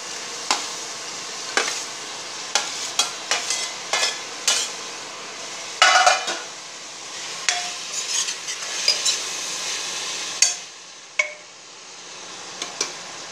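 Chopped tomatoes fry in a pan for Tamil tomato rice while a spoon scrapes and stirs, irregular clinks and knocks over a soft background sizzle, close and moderately loud.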